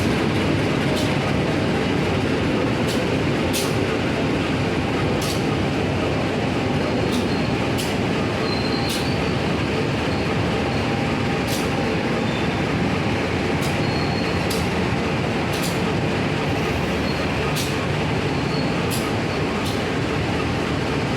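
Serayu night passenger train running on rails, a loud steady rumble of wheels and carriage with periodic sharp clacks at rail joints, heard continuously from inside the train.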